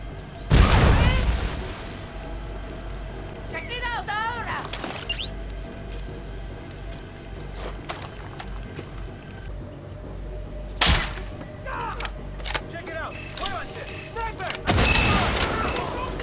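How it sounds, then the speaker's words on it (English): Several loud, booming explosions with crackling debris hit during a stealth video game mission to destroy a rum factory and a statue. Smaller thuds and game effects fill the gaps between the blasts. "Kaboom."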